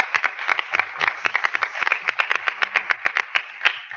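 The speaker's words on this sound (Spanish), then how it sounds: "Bueno, creo que merece un aplauso." A forum audience gives a round of applause, a modest group of distinct, close hand claps in an uneven rapid patter that stays steady for a few seconds with no talk.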